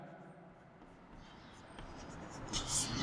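Chalk or pen writing on a board during a Hindi-language class 11 physics lesson, faint scratchy strokes growing slightly louder toward the end, with no speech over them.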